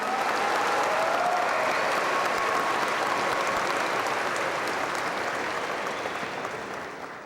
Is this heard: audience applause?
yes